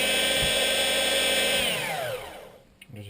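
A small electric motor in an RC car starter box whirs loudly as it spins the engine's starter crown, holding a steady high-pitched drone before winding down and fading out near the end.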